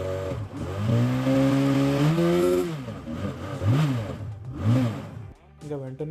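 Motorcycle engine just refilled with fresh oil after a flush, revved up and down through high and low RPM, rising and falling harmonic pitch sweeps, loud and close, with a short pause near the end.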